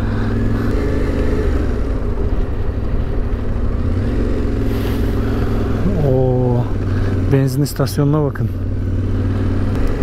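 A motorcycle engine runs steadily with a low rumbling drone while a person talks over it, and a few brief higher-pitched sounds rise near the end.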